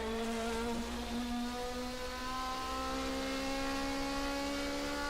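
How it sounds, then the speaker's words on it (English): A 1979 Division 2 DRM race car at the Norisring street circuit, heard as a loud, sustained engine drone with rising and falling harmonics as it downshifts for a late turn, running continuously without a break. "Downshifting."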